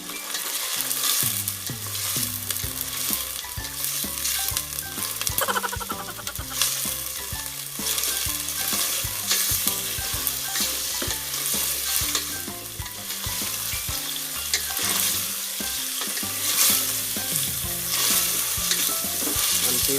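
Sliced pork meat frying in a pan, a dense, constant close sizzle with continual stirring and clattering of a utensil throughout, fairly loud and even.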